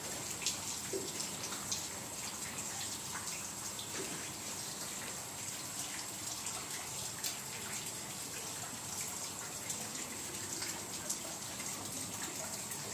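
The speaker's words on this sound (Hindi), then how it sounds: "ये ऊपर से पानी बह रहा है।" Water pours down from above into a filthy, polluted Vande Bharat train pit line at the RKMP depot near Rani Kamlapati station, a steady, dense rushing and splashing wash with scattered drips, continuous and close without pause.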